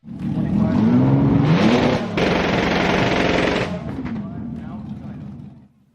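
A twin-turbo methanol Camaro engine bangs against its rev limiter, the exhaust firing off rapid, loud popping and crackling bursts that trail off into sputters.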